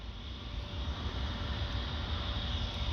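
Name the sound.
Air France Airbus A320 taxiing to runway for takeoff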